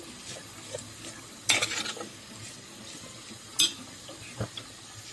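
Asparagus stirred and cooked in a pot for soup gives a soft, quiet simmering sizzle punctuated by a few brief scraping, clinking stirs, heard close with no speech.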